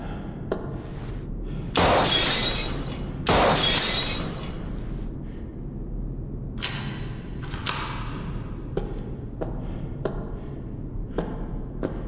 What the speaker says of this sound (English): I'm just gonna shoot all the lights out, I guess